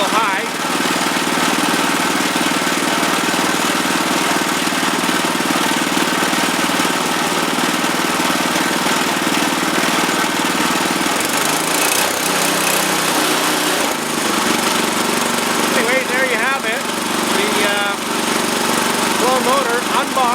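Small 6.5 hp Power Fist GX2 gas engine idling a little high, a loud, steady close-up drone that runs throughout with slight wavering, and a voice heard over it.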